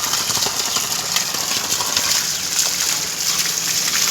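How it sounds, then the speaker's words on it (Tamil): Freshly picked black nightshade and spinach greens rinsed in water outdoors in a garden, heard as a steady, close, loud rush and splash of flowing water with no pauses. "கொஞ்சம் பசலைக்கீரையும் கிள்ளியிருக்கேங்க, அதையும் அலசிக்கலாம்."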